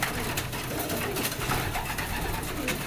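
Racing pigeons coo in a loft, a steady low murmur of overlapping birds that runs without a break, with a busy rustle of movement close by.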